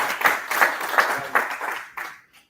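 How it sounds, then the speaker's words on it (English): An audience gives a short round of applause in a lecture session, a dense patter of clapping that fades out within a couple of seconds. "Just have a round of applause."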